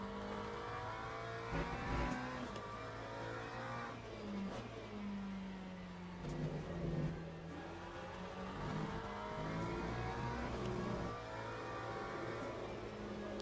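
Race car engine in the Le Mans Ultimate racing game, revving up and down through gear changes with rising and falling pitch, loud and continuous with a few sharp shifts.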